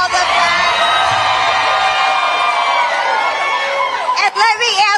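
A large crowd at a political rally cheers and whoops loudly, a sustained roar of voices with yells rising above it, then breaking into a few sharper shouts toward the end.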